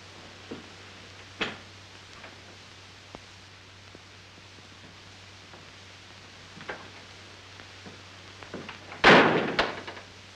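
In a 1935 film, a door shuts with a single loud slam near the end, after a few soft bumps and rustles over steady background hiss and hum.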